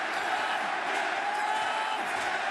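A large wrestling crowd at the Chase Center roars in a dense, sustained wash of cheering, loud and unbroken throughout.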